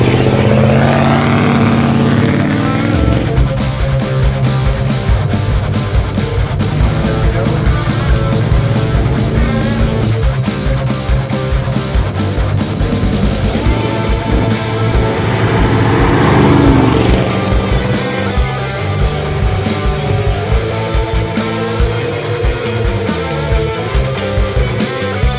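A 1970 Dodge Coronet 440 V8 rumbles loudly and continuously as it drives around a corner toward the listener, the engine note swelling and easing with the throttle.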